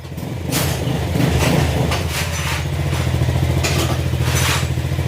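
A motorcycle engine, freshly oiled, idles and runs steadily, a low throbbing putter with a few sharper bursts, close and fairly loud, no talking.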